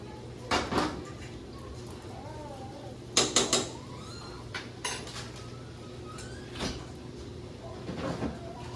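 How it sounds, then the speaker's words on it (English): Strained taco-night food goes back into a pan in a home kitchen: a few sharp metallic clanks and scrapes of pan and utensils come in scattered bursts over a quiet room hum. "Put it back in the pan."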